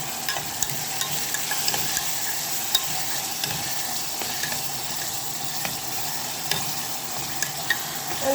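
Shakshuka of eggs and tomatoes frying in a pan, a steady close sizzle with light scraping from continuous stirring and a few soft clicks.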